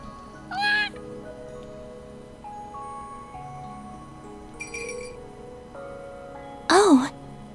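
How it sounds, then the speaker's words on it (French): Cat meowing inside a room in the Trails of Cold Steel game, two short mews, a brief one early and a louder rising one near the end, over steady game music. "A cat? Un chat?"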